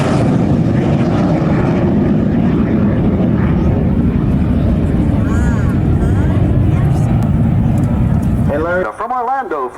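A vintage jet sweeps past on a photo pass at a 1997 military air show at Quonset ANGB, a loud steady roar that dominates before fading, with an announcer talking over it.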